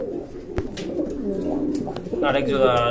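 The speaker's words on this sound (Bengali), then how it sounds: "খুবই চমৎকার এক জোড়া কবুতর" Low coos from a pair of pigeons at a pigeon sale murmur steadily near the microphone while a person talks over them.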